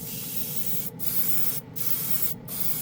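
A budget airbrush sprays primer onto a spoon in three short hissing bursts with brief pauses between them, while a compressor runs steadily underneath.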